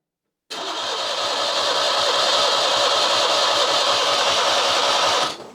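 A Citroen 2CV engine cranks over steadily for about five seconds, a loud continuous whirring churn that starts abruptly and cuts off at the end.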